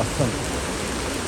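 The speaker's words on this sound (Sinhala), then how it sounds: "මේ ඉතින් අපි වැස්සෙම යනවා" Dense, steady rain pours on the Bomburu Ella waterfall trail in Sri Lanka, a close hiss of drops on surfaces with a brief spoken word near the start.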